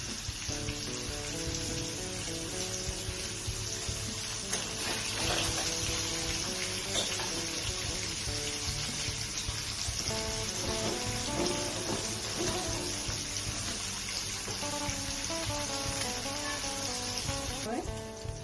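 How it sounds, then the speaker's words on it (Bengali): Fish pieces fry in a hot pan for a Bengali lemon rohu fish curry, a steady hissing sizzle running throughout, with background music playing over it. "এভাবে আর দুটা পিস আছে, ফ্রাই করে নিই।"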